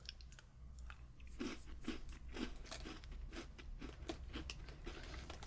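Steady crunching bites and chewing of a crisp vanilla butter cookie, close and distinct, a regular series of crackly crunches over a low steady hum, with no talking.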